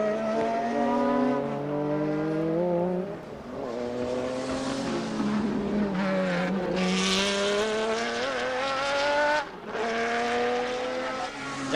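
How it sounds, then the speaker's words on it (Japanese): A Jaguar prototype race car at the 1988 WEC endurance race at Fuji, its loud engine note rising and falling through the gears as it passes, with a second engine surge later, close and dominant. "ジャガーが A コーナーを通りまして、これからヘアピンに向かおうというところであります。"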